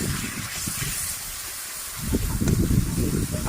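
Raw marinated meat hits a hot pan of lightly fried onions, setting off a loud, steady sizzle and hiss that swells sharply halfway through and stays close and continuous.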